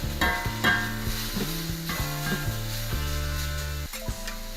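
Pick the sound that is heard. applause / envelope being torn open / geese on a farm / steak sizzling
steak sizzling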